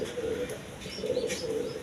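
Gopalganj pigeons coo softly and repeatedly in low, rolling calls, close by with faint background noise.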